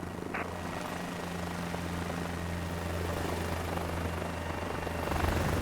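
A helicopter flies in a video game as airflow over the tail no longer counters its rotation, giving a steady, loud rotor and engine drone with a low hum that holds throughout, with no voices.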